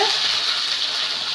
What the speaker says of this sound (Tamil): நல்லா அந்த தண்ணியில் நல்லா அலசிக்கோங்க